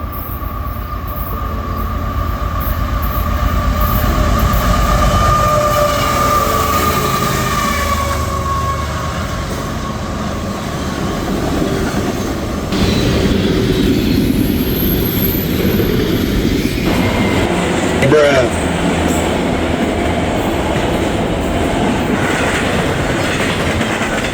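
CSX freight train M205, with heritage locomotive 1869 trailing second, rolls past trackside loud and close: a sustained engine roar and horn-like tones, then rumbling, clattering cars for over twenty seconds.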